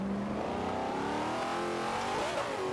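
A Z06 Corvette's engine in Forza 5, racing in A class, revs hard and continuously, its pitch climbing steadily through the gear before a small dip, loud and close with no talk.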